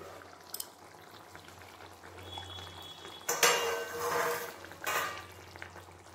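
A pot lid comes off rui fish curry simmering with ground coriander leaves: quiet low bubbling first, then a sudden burst of hissing steam and sizzle, with a brief metallic clink and another surge near the end.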